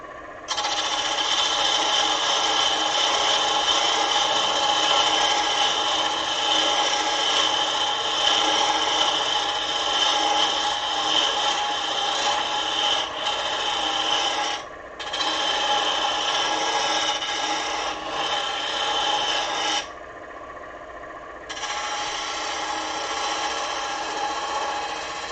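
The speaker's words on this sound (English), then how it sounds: "with my round scraper here, I'm going to go ahead and cut a little bit of a valley in right here" A round scraper cuts a valley into a piece of wood turning stock, giving a steady, loud, continuous rasping scrape that runs for about 20 seconds with a brief dip midway and a short pause near the end.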